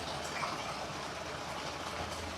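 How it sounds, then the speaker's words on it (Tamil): Water gushes strongly from a village well in Jaffna as it is pumped out to fill a tank, a steady, dense rushing wash with no breaks, close and continuous. "தண்ணி வர வேகத்தை பாருங்க."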